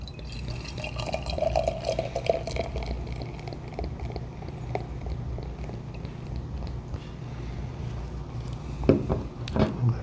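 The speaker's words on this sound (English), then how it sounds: "Let's get a pour on it." Russian River Brewing Pliny the Elder double IPA poured from a bottle into a glass, a steady gurgling, fizzing stream close by, ending with a couple of brief clinks.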